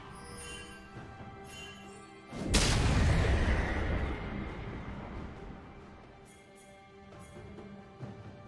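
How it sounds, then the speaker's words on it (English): A turret being destroyed in League of Legends, a sudden loud booming blast that then rumbles and fades over several seconds, with quieter game sounds before and after. "Blue Team's turret has been destroyed."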